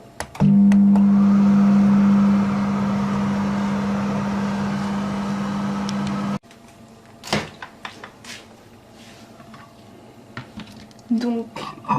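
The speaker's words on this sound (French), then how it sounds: "Je vais faire fondre mon chocolat blanc au micro-ondes jusqu'à ce qu'il soit complètement fondu." A microwave oven melting white chocolate hums with a steady loud drone for several seconds, then shuts off, followed by clicks, handling knocks and small kitchen sounds.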